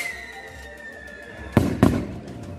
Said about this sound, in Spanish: Suenan muchos cohetes por aquí porque están subiendo.